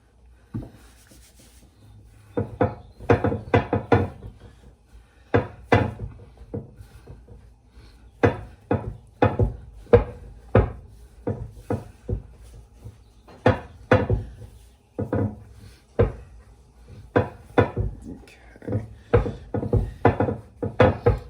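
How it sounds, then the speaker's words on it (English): Soda bread dough being kneaded by hand with floured hands, giving a run of soft dull thumps and rubs in irregular bursts, close and fairly loud, with no talk. "It says knead it for about 30 seconds."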